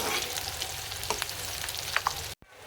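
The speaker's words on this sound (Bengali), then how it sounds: "এখানে শুটকি আর পেঁয়াজ একবারে ভাজা ভাজা কইরা একটু বাদামি কালার করে তারপর মশলা টসলা দিয়ে দেব" Dried loitta fish and onion fry together in a pan, a close, steady crackling sizzle with a few sharper pops and a brief stir, cutting off abruptly near the end.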